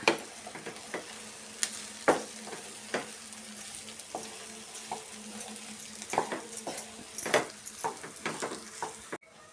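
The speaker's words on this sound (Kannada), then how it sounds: "ಎಗ್ ರೈಸ್ಗೆ ಚೆನ್ನಾಗಿ ಮಿಕ್ಸ್ ಮಾಡ್ಕೊಬೇಕು ಈ ಥರ" Cooked rice for egg fried rice is tossed and mixed in a pan, giving a light sizzle under frequent close clinks and scrapes of the spatula against the metal, in an uneven rhythm with no talking.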